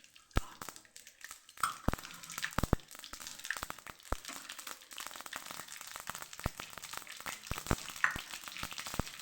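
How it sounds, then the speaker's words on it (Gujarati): Mustard seeds and asafoetida fry in hot oil for a Kathiawadi ivy gourd and chili sambharo, giving sharp, irregular popping crackles over a soft sizzle, fairly close and moderately quiet. "રાઈ સરસ ફૂટી જાય એટલે 5 ચમચી જેટલી આપણે હિંગ ઉમેરશું"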